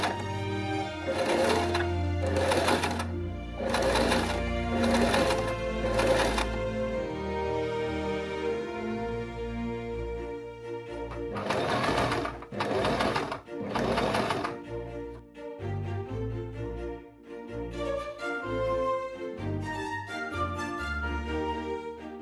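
A sewing machine stitches piping onto the collar of a recreated Regency jacket in several rapid, loud bursts of rattling stitches separated by pauses, then continues more lightly in shorter runs.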